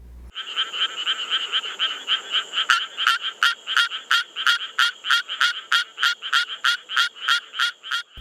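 A frog calls with its vocal sac in a fast, steady series of rhythmic croaks, each pulse bright and nasal, fairly close against a quiet wetland background with no voices.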